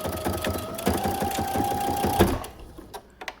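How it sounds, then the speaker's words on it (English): A home sewing machine back-stitches a seam on a button-down shirt, whirring in a fast close rhythmic hum that stops abruptly, followed by a few small clicks and handling noises. "I'm there, I'm gonna back stitch"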